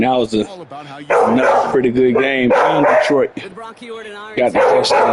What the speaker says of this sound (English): Sorry about the dog barking.